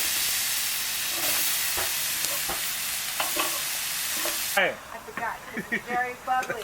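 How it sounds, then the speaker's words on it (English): Onion frying in butter in a home kitchen pot, a loud steady sizzle with stirring clinks, then the hiss drops away as people start talking. "Now the onion goes in."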